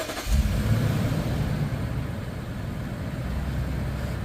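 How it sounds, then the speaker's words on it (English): A 2015 Toyota Land Cruiser 200 Series starts on its factory remote start: a quick crank, the engine catching, then a steady, close, mid-pitched idle that continues alone. "It will beep once, and then it'll start."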